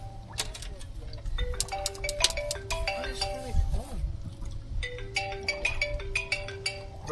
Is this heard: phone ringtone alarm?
yes